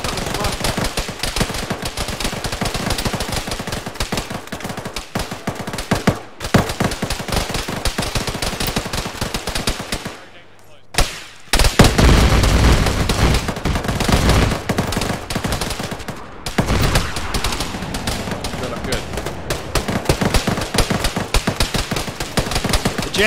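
Sustained gunfire from the Arma military game in a ShackTac session, dense automatic bursts and rattling shots running almost continuously, with a brief lull midway before heavy firing resumes, loud and close.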